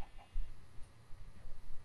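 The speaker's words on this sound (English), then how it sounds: "There's a chicken!" A Minecraft chicken gives a few short, soft clucks in quick succession, faint and close.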